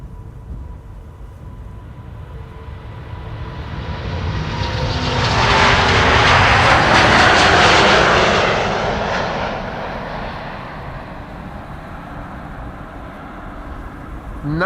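An Airbus A350-900 on a takeoff run at Amsterdam Schiphol, bound for Istanbul, rises from a distant rumble to a loud roar at mid-clip and then fades as it moves away.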